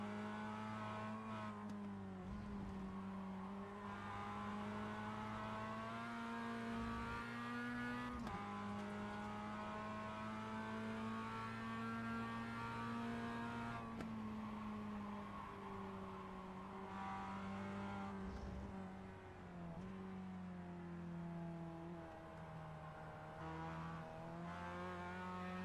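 Mazda MX-5 Cup race car engines in a sim racing game, one car held at steady high revs on board through a series of bends, with small shifts in pitch and other cars droning close by throughout.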